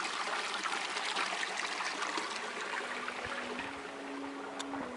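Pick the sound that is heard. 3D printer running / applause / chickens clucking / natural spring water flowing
natural spring water flowing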